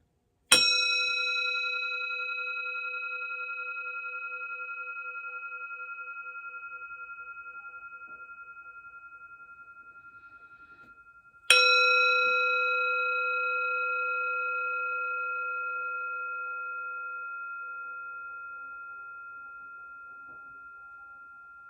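A bell is struck twice, about eleven seconds apart. Each strike gives a clear, bright ring with steady overtones that fades slowly. There is no talk, and the background is silent.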